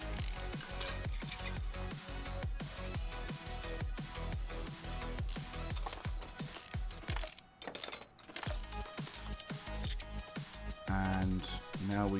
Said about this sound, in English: the crankshaft pulley is to come off